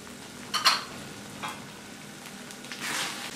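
Semiya kesari stirred in a pan with fried cashews, almonds, raisins and cardamom powder: a few scraping strokes and soft sizzles, close and moderately quiet, with a brief louder scrape near the start and no talking.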